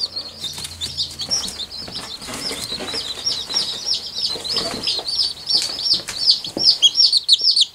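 Barred Rock baby chicks peep in a steady flurry of high, rapid chirps, several birds overlapping close by, with faint rustling and light handling noises underneath.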